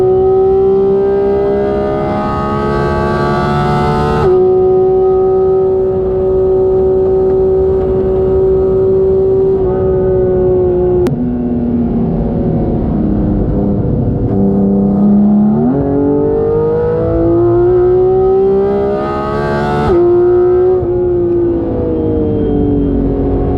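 A supercar engine on a track day holds a loud, sustained droning note that steps up through gears, dips as it shifts, then climbs again as the car accelerates, close and alone without talk.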